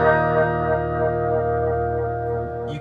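Nocturne Brain BS-301 echo pedal running at about half wet with its Photocell tremolo engaged and depth turned up, giving a sustained, harmonically rich guitar tone with a steady pulsing throb and echo tails throughout.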